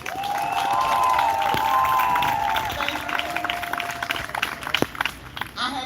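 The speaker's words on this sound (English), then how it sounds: "give a good round of applause for Miss Joanne Rickens" A crowd at a Labor Day workers' rally in Jackson, Mississippi applauds a speaker with sustained clapping and cheers that swell early, hold steady, then thin into scattered claps, with some voices mixed in.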